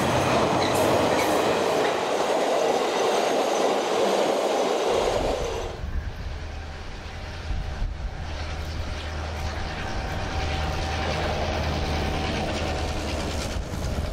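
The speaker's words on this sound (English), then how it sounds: "The train made several test runs between the two cities for crew training and familiarisation." A train on a test run between two cities rumbles loudly along the rails, its roar shifting partway through to a steadier, lower clatter of wheels on track.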